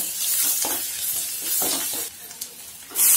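Sliced onions frying in a pan with turmeric sizzle steadily up close, with stirring scrapes and a sharper hiss swelling at the end; no voices.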